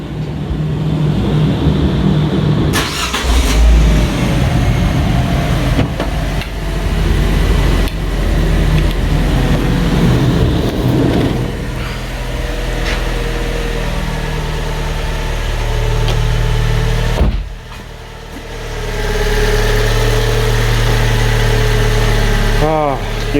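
A neglected Fiat 500 cranks into life and settles into a rough, loud idle, its steady low rumble running throughout with a brief interruption, while someone talks over it.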